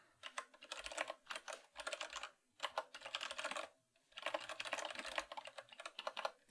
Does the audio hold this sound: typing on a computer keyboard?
yes